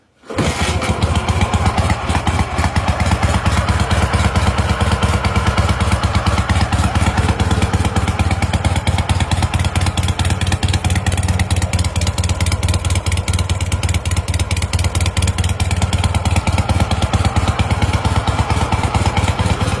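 A Dnipro (KMZ) motorcycle engine with an Ikov 638 carburetor catches abruptly on a cold start and settles into a loud, steady, rapid putter of idling, close by and unbroken for the whole stretch.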